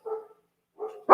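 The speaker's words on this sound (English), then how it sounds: "Raven, don't do that. No barking" A pet dog barks at close range in a home, giving two short bursts of barking with a pause between, and the second ends in a loud, sharp bark.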